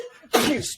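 One sharp human sneeze, close and loud, with a short intake followed by a bright explosive burst lasting under a second.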